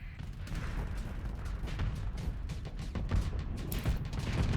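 Spaceship turret weapons firing in the Starsector space combat game, a dense run of rapid booming shots and impacts rolling continuously and growing slightly louder toward the end.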